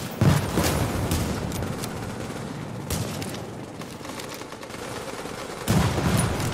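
Sniper rifle shots in The Division, heard as a sharp crack near the start and another near the end, each standing over a steady background of distant gunfire.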